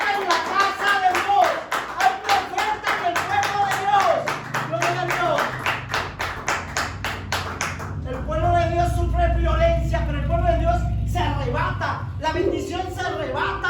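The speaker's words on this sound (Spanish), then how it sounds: "Un aplauso a Dios por la vida de mi hermano" A church congregation claps rhythmically in a fast steady beat, then breaks into looser applause mixed with voices and cheering during a worship service.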